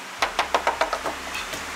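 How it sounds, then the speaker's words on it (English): Knuckles rap on cedar plank ceiling boards in a van or skoolie bus conversion, about eight quick hollow knocks in an even rhythm, close and clear, fading slightly at the end. "Knock on cedar planking."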